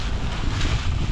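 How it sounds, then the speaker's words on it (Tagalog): Strong gusts buffet the microphone on an open farm field during fertilizing, a loud, continuous low rumble with rushing air throughout and no voices. "Mahangin ngayon, no?"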